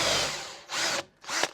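A power drill with a 5mm bit bores into wood while a bespoke mount for a Jaguar XK8 is made, giving three short whirring bursts separated by brief pauses, close and fairly loud.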